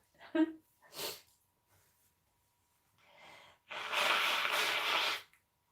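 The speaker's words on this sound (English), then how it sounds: "Just what you want to hear is me blow my nose," A person blowing their nose, a short wet snort and breathy sniff followed after a pause by a long, loud honking blow lasting over a second, close to the microphone with no talk.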